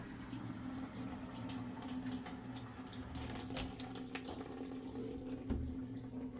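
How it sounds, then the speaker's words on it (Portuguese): Tap water runs steadily into a beer cooler being refilled on an extra-low level setting, a continuous broadband rushing with a low hum underneath, fairly close and alone without voices. "Vamos ver se está entrando água."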